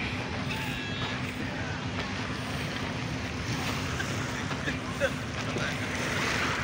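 Surf rolls in steadily along Dolomite Beach, a broad continuous wash of sea waves mixed with wind buffeting the microphone, with a faint steady hum from a boat or engine underneath and no clear talk.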